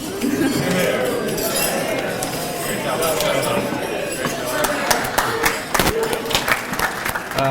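At a wedding toast, glasses clink in scattered bright chimes amid applause and crowd chatter, with the clinks growing sharper and more frequent toward the end.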